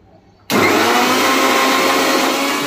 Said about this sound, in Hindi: अभी इसको मैं मिक्सर में अच्छे से चर्न करूंगी।